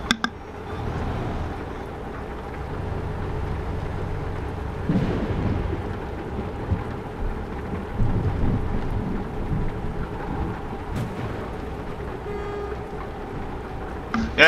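Heavy rain with rolling thunder in Euro Truck Simulator 2, heard from a truck on a rainy road, a steady loud downpour with deep rumbles swelling throughout and no talk.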